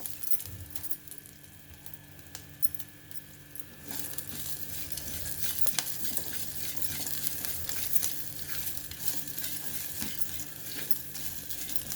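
Tempering spices sizzling in a pan for a greens and moong dal dish, a continuous close crackling sizzle that grows louder partway through, with occasional stirring clinks and no talking.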